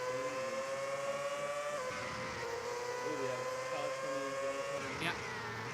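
Formula 1 race cars on track, the engine drone sustained and loud with shifting pitch as cars pass, while a commentator talks over it.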